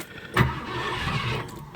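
Cold start of a car engine with the choke pulled fully out: a sharp catch as it fires, then a low rough running rumble close by.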